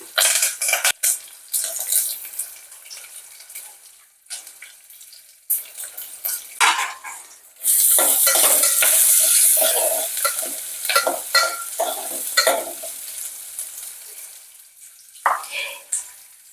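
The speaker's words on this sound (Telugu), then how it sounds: "ఉల్లిపాయలు ఎప్పుడు ఎర్రగా వేగాలి, పచ్చిగా ఉంటే టేస్ట్ ఉండదు." Onions frying and being stirred in a pan for an Andhra-style egg curry, giving a steady close sizzle with scraping stirs and brief pauses, plus a louder spell of hissing frying in the middle.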